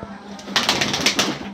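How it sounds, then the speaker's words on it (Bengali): Pigeons in a loft, including a blue pigeon and golden pigeons, coo in several soft close rhythmic bursts. "এই যে হলো আমার খোপের নীলা কবুতর"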